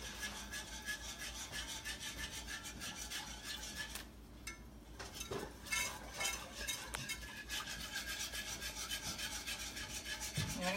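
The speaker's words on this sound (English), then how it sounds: "You want to keep stirring a little because with milk it can have a tendency to scald" Spoon stirring simmering milk in a pot, a quiet continuous scraping and rubbing that pauses briefly partway through before resuming, close and faint, with no speech.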